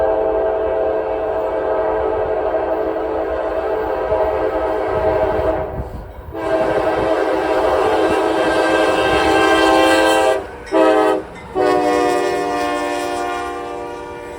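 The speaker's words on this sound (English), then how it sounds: "a northbound grain train comes through" A northbound grain train rolls past, its horn blaring loud and close in long sustained blasts, broken by brief pauses near the end, over the continuous rumble of the passing cars.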